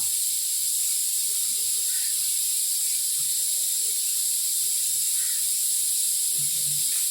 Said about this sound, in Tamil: என்னோடய குக்கர் விசில்லாம் வராது, இப்படி தான் அப்படி தான் கேட்கும்.